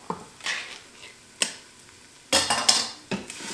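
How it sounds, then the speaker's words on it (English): Spoon clinks and scraping as tomato basil soup ingredients with vegetable broth are stirred in an Instant Pot, a few separate bursts with a longer busy stretch near the end. "stir it all well"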